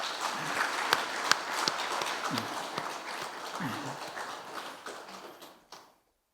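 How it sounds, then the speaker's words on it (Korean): Congratulatory applause from a church congregation during a Sunday worship service, fairly soft clapping with a few sharper claps, gradually thinning and ending abruptly near the close. "축하의 박수 드리겠습니다."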